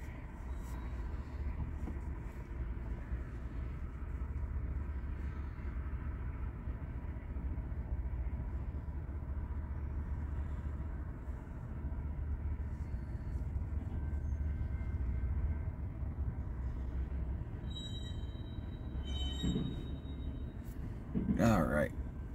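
A southbound freight unit train of corn passes near Hobson Yard in Lincoln, Nebraska, its rear DPU locomotive included. It makes a continuous low rumble and rolling drone that holds steady throughout, with a few sharper metallic clanks near the end and faint talk at times.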